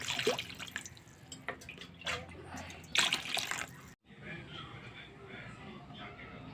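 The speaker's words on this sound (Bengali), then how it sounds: "এখন আমি আলুটাকে ভালো করে ধুয়ে নিই" Potatoes being washed by hand in water at a home kitchen sink, with splashing, dripping and running-tap sounds that pause briefly partway through, heard without talk.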